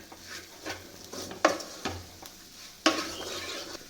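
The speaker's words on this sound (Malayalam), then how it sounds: "നമുക്ക് ഫ്ലെയിമിൽ വെച്ചിട്ട് നമുക്ക് അരപ്പ് ചേർത്ത് കൊടുക്കാം" Masala paste with Kashmiri chilli powder being stirred in a pan for beef curry: a soft sizzle under several sharp scrapes and knocks of a spoon against the pan, close and without talk.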